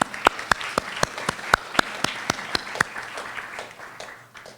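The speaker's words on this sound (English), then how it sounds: "So I'd like to give them a round of applause." A small group claps in a steady, evenly spaced rhythm at an anniversary celebration, each clap sharp and distinct, fading out toward the end.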